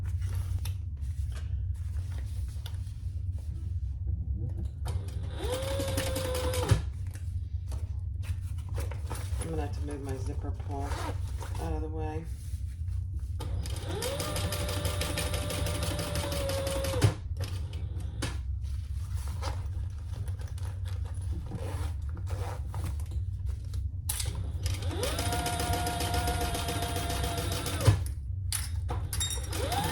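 Sewing machine stitching the full seam allowance along a zipper seam on a bowler bag, heard as a few short bursts of whirring motor under steady low hum, with someone talking between runs.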